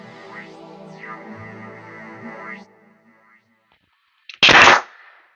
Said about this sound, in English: What I'm shooting is 16 gauge nails with my air setup.